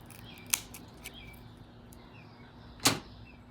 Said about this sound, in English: I'm just going to go up the side with my scissors.